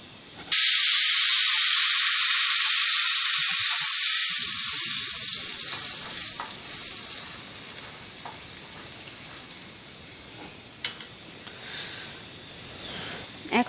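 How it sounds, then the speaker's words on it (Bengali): Blended chickpea dal hits a hot pan with a loud burst of sizzling, then frying settles into a steady hiss while it is stirred, the sizzle slowly fading with occasional scraping clicks, for a sweet chickpea halwa. "এখন আমি এর মধ্যে ব্লেন্ডার করা বুটের ডালটা দিয়ে দিব।"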